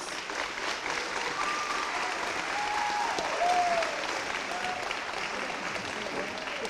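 Year 12 awards ceremony audience at a Catholic college applauding steadily for several seconds, a sustained wash of clapping with brief whistles or cheers rising over it.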